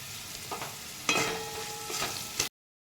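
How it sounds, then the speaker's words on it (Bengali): Potatoes frying with salt and turmeric in a pan for poha, soft sizzling with a few scraping stirs and clinks, faint and close, cutting out abruptly near the end. "অল্প একটু আলু দিয়ে দিলাম এবার আমি এগুলো সব ভালো করে একটু ভেজে নেব"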